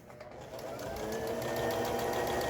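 A Brother Besta sewing machine runs noisily close by, with a steady rhythmic mechanical whir and clatter that grows slightly louder and continues without any talking.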